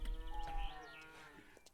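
Cows mooing in the video game Lumberjack's Dynasty: a drawn-out, wavering low moo at moderate distance, followed by a shorter bleat-like call, with no talk over it.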